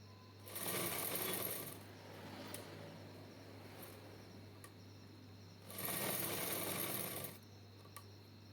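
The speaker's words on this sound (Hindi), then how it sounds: "अब इसे हम खोल करके इसके दोनों साइड जो है वो सिलाई लगाएंगे।" An electric sewing machine stitching the side seams of a printed suit, running in two short bursts of steady rapid whirring with a quiet pause between, close and alone with no talking.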